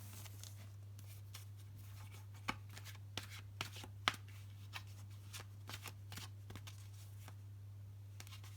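Tarot cards are shuffled quietly with soft irregular riffles and taps over a low steady hum.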